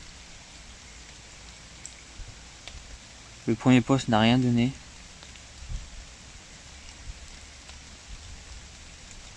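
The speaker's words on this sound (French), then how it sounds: "Il a commencé à se mettre à pleuvoir." Steady light rain patters outdoors at a fishing spot, a soft continuous hiss with scattered drops, while someone speaks briefly over it.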